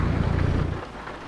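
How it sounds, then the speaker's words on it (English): Rain pours steadily with a low rumble of thunder in a Euro Truck Simulator 2 game, heard from a Mercedes-Benz truck hauling grass rolls; the thunder fades after about a second, leaving the hiss of rain. "get out of the rain."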